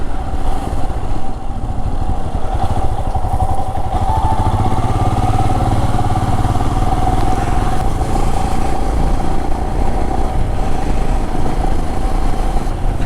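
A Royal Enfield Himalayan BS6 motorcycle runs loudly and steadily while riding along a curvy road to Nagappara, its engine droning at close range with a constant hum and some clatter, and nobody speaking.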